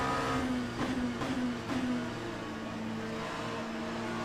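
A Ferrari race car engine in Le Mans Ultimate drones steadily close by, with a few sharp upshifts or blips early on before settling into a sustained tone.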